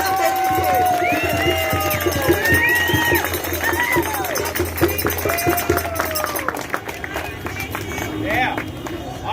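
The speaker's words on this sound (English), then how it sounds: "let's have another round of applause for Stacy Sprout." An outdoor protest crowd at a Seattle march against vaccine mandates claps and cheers, with whoops, shouts and chatter layered over scattered applause, loud and lively throughout.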